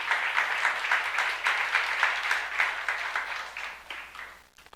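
A church youth-group congregation applauds during a sermon, bursts of clapping rising and dipping in waves before fading out near the end, with no voices over it.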